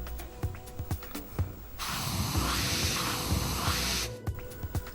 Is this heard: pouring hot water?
no